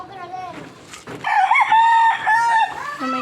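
A rooster crows loudly and close by in a long drawn-out call, following a few softer clucks from the fowl, with no talk over it.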